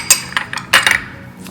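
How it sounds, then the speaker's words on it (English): Spoon clinking and scraping against a bowl while mung dal batter is mixed with salt and crushed cumin, a few sharp metallic taps with short pauses between them. "Mix it."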